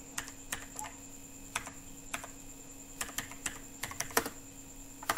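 Typing on a computer keyboard while entering HTML tag text, scattered soft key clicks in short irregular clusters over a steady background hum, fairly faint and with no voice.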